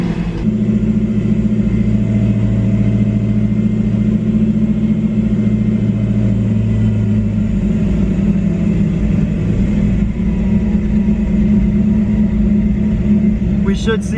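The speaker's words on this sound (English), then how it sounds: "turn the car on." A Ford car with an older OBD1 system starts up and settles into a steady idle, its low, even engine drone running close and loud throughout.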